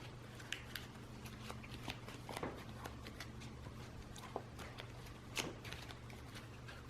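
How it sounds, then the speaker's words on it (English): Playing cards for a board game are shuffled in faint, irregular bursts of crisp riffling and snapping, with soft clicks scattered across the stretch in a quiet room. "Shuffle these cards."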